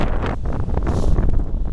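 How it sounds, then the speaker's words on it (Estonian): Strong, gusty wind buffets the microphone at a seaside in France, a loud continuous roar with no voices. "Ja üpris tuuline on ka."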